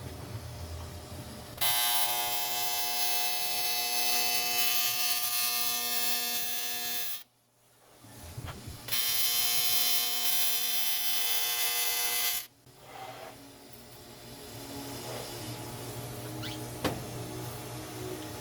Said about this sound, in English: Weld that pipe in there.